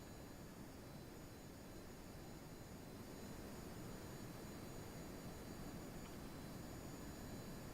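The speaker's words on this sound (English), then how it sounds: "So I'm assuming this is afterburner mode" A jet plane engine in afterburner mode from Kerbal Space Program roars as a steady, broad whooshing rumble, constant and unbroken for several seconds with no speech.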